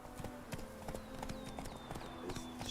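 Roach the horse in The Witcher 3 trots along with steady, evenly spaced hoof clip-clops, moderately close, over a low game ambience with faint whistling tones.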